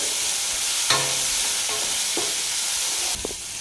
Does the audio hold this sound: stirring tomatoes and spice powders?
yes